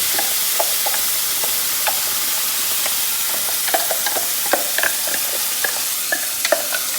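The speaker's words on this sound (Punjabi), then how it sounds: "ਸਰੋਂ ਦਾ ਤੇਲ ਹੋ ਗਿਆ ਐ ਚੰਗੀ ਤਰ੍ਹਾਂ ਗਰਮ ਹੁਣ ਆਪਾਂ ਇਹਦੇ ਵਿੱਚ ਪਾ ਦਿੰਨੇ ਆ ਪੇਸਟ" Spice paste for a black chickpea curry tempering sizzles in hot mustard oil, giving a steady close frying hiss scattered with small crackles and pops throughout, with no talking.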